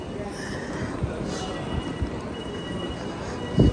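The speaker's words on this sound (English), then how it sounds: "Trying to catch my next train to Gatwick." A London rail train rumbles steadily close by, with a continuous low wheel-and-carriage roar and a brief metallic squeal near the end, heard without talk.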